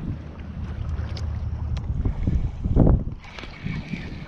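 Wind gusts buffet the microphone during saltwater fishing from a boat on a cloudy day, a broad low rumble that swells toward the middle, with water sounds underneath.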